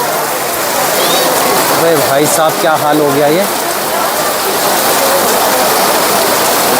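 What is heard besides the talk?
heavy rain with falling hail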